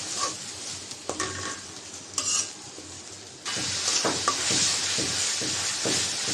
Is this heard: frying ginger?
yes